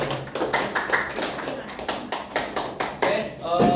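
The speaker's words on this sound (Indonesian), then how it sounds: "Boleh minta tepuk tangan untuk Mbak Ama." A classroom of students gives a short burst of scattered clapping for a classmate, with irregular sharp claps spread over a few seconds and faint chatter in the background.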